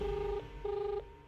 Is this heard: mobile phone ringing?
yes